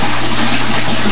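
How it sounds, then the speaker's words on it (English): Water gushing loudly and steadily as a bell siphon kicks in and drains through the standpipe, a continuous close rushing flow with no other sounds. "So what you saw was the siphon action begin"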